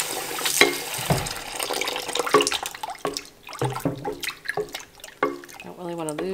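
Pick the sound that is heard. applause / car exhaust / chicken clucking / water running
water running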